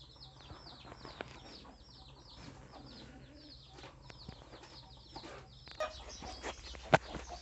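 Faint clucking from a village chicken hidden among the undergrowth, with soft repeated bird calls over low ambient background and a few distant clatters.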